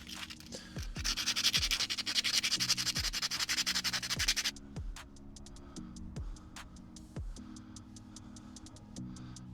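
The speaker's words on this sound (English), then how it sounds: "we'll just clean it up as best we can with a bit of emery paper" Hand rubbing with emery paper on a corroded Audi S5 part, a dense rapid scratching that runs steadily for a few seconds then gives way to quieter intermittent scrapes and ticks, close and without talk.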